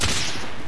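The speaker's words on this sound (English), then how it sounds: "Like there's gunfire over that way." A brief, loud burst of rapid gunfire in the video game Call of Duty: Warzone, a dense crackling volley lasting under a second with no voices over it.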